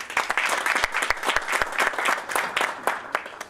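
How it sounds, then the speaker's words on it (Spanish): A conference audience applauds speaker Alfredo Lango as he is welcomed, steady crowd clapping with sharp individual claps standing out, moderately close and continuing throughout. "a quien recibimos con un aplauso, por favor."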